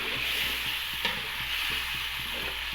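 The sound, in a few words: chicken liver frying and being stirred with spices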